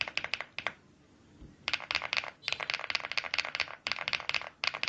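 Mechanical keyboard switches being pressed onto the board, heard as bursts of sharp plastic clicks and snaps in quick clusters, close up and crisp, broken by a short quiet gap.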